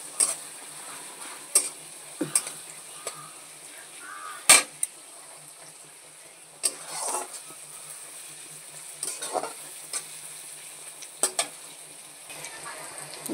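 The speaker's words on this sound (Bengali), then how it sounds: "সুন্দর করে মশলাটাকে আমি ভেজে নেব" Spices with chopped garlic, ginger and green chilies fry in a pan with a soft, low sizzle, broken by sharp intermittent spatula taps and scrapes.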